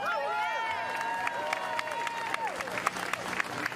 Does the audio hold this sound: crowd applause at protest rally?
yes